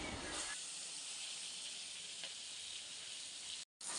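Food shallow-frying in oil in a pan for a home lunch, browning one side before flipping, gives a steady, dense sizzle and hiss throughout that cuts out briefly near the end.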